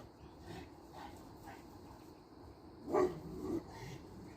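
A dog barks a few times outdoors in the morning near a fence, short, moderately loud yips with whimpering in between, standing out over quiet background.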